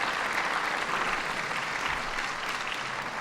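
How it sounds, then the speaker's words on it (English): A town hall audience at a budget meeting claps in a dense, even round of applause lasting a few seconds, moderately loud and uninterrupted by talk. "give yourselves a wonderful round of applause"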